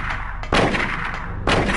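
Two loud, abrupt gunshots in the PS1 game Silent Hill, during the fight against Cybil, about a second apart, each a sharp crack over a steady low hum.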